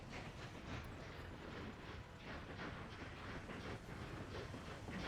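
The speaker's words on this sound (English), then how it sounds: "we got a nice little shunting train here" A small steam shunting train in the rail-building game Workers & Resources: Soviet Republic, rolling past with a faint, even rumble and soft rhythmic clatter from the wagons, no speech.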